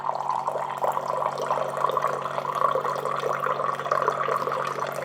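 Water from a reverse osmosis system pours steadily into a container, a continuous splashing trickle heard alone at moderate loudness.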